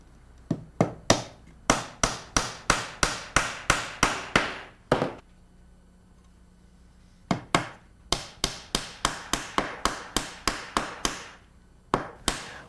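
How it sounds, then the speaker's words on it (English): A hammer drives wooden dowel pins into holes in plywood with a rapid series of sharp, close knocks in several bursts, separated by brief pauses and with no talking. "Once that hammer sound changes, you know you're at full depth."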